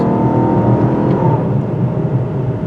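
A 2024 Lexus LC 500h hybrid accelerates up a mountain grade, its steady, fairly loud engine and road drone filling the cabin with a low rumble and a faint rising tone, without speech.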